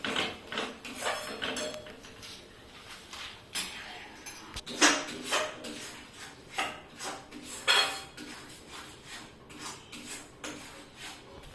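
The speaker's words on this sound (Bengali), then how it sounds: "আবার ভালো করে নেড়ে চেড়ে দিচ্ছি" A utensil stirs spices and turmeric in a cooking pot for egg and chicken biryani, making irregular clinks and scrapes against the metal in quick, close bursts with short pauses.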